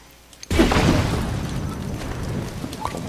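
In Zelda: Tears of the Kingdom, a cannon fires with a sudden loud boom that cuts in abruptly after half a second of quiet, then rolls on as a long, dense rumble that slowly fades.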